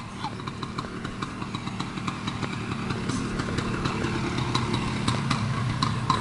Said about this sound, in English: What a great running bike.